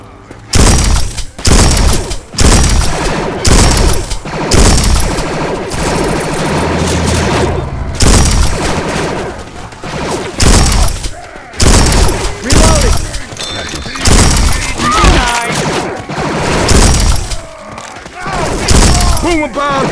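Gunfire in the zombie shooter game Left 4 Dead 2, loud rapid bursts of shots in repeated clusters with booms and impacts, players' voices calling out between and over the shooting.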